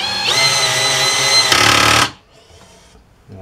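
A Workzone 12V 2000mAh cordless drill driving a screw at its highest torque setting: a close, loud steady motor whine for about two seconds that stops abruptly, leaving near quiet.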